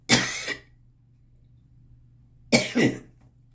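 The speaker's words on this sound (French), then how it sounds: "Je vous l'ai dit, je risquais peut-être de tousser." Two separate dry coughs, close and fairly loud, with a quiet pause between them in a calm indoor room.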